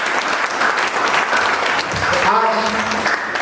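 Audience clapping at a motivational gathering in Darjeeling, a short burst of dense applause with a voice speaking over it toward the end.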